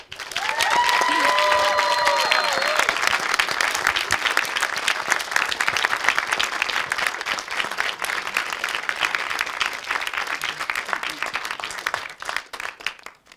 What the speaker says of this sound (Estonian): teeme siis nende ja meie endi auks ühe hästi suure aplausi